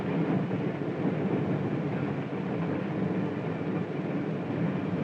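A 1950s passenger train rumbles at a station, a continuous low, even roar that holds steady from start to finish with no voices over it.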